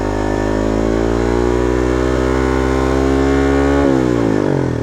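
A Suzuki Raider R150 FI motorcycle engine, up on a center stand at a tuning shop, holds a loud steady high rev around 4,500 to 5,000 RPM, then the pitch drops slightly near the end as the throttle eases.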